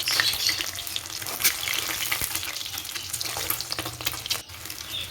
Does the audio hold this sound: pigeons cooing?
no